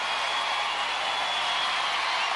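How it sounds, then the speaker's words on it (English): Studio audience applause for Marissa and Lightning at the UK Gladiators Ashes 1996 grand final, a dense continuous wash of clapping, loud and sustained with no break. "Let's have a big round of applause for Marissa and for"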